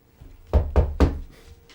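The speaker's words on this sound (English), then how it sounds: "I'll go up and knock on the door." Three firm knocks rapped on a wooden table, standing in for a knock on a door, close and evenly spaced, followed by a faint softer tap.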